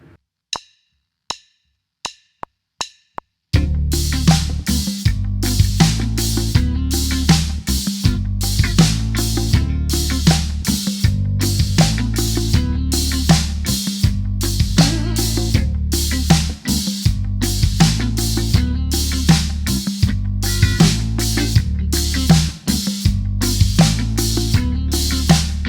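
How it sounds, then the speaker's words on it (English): Drum kit groove with the hi-hat opened on upbeats and closed on downbeats, played steadily and loud after a few sparse opening hits, no talking. "So we're going to be opening the hi-hat on the upbeats and closing it on the downbeats."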